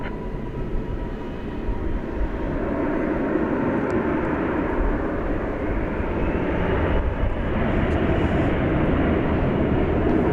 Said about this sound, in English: Got a noisy E-jet taking off for Abilene over there.